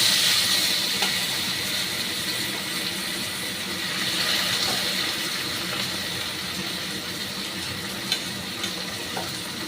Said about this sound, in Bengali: কমিয়ে দিয়ে এই যে ডালটা ধুয়ে রেখেছি এইটা এর মধ্যে দিয়ে দিচ্ছি।